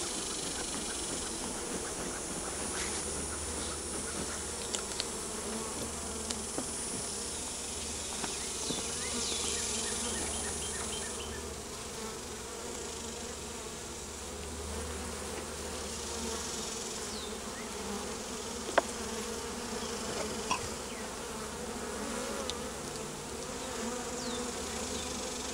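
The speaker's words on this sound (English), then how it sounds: "Let's get the bees as much as I can off that comb." Dense swarm of honeybees buzzing steadily around a comb in a top bar hive, close and continuous with a few brief clicks and knocks from handling the comb.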